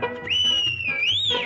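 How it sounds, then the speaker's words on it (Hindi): A steady, shrill whistle blown in a 1957 Hindi film song about a train, one sustained tone that wavers slightly in pitch over the music for about a second. "कौन दिखाता इसको झंडी, कौन बजाता सीटी"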